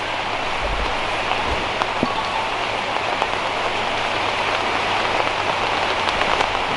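Steady rain pours down on a street where grilled chicken is being sold, a dense even hiss with scattered close drips throughout.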